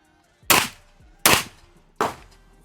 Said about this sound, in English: the carbine we're going to be using is this High Point